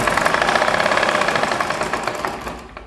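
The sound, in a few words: sewing machine running and stitching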